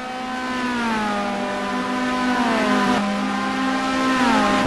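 Race car engine holding a steady, loud revving drone with harmonics sliding down then up as it shifts speed during a circuit race, close and continuous with no talk.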